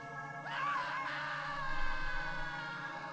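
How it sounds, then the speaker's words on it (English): A drawn-out pained scream rises and wavers in the Gakkou de Atta Kowai Hanashi S video game, a single cry over a low murky background. "They heard a pained scream tearing through the silence."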